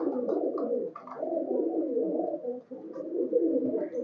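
A male Fakirgul high flyer pigeon coos steadily and close up, its low, throaty, rolling calls running almost continuously with only brief pauses.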